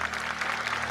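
An audience at a Christmas church service briefly applauds the worship band. The clapping is fairly faint and sits over a low electrical hum.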